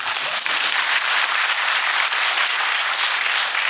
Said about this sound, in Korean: 박수 한 번만 또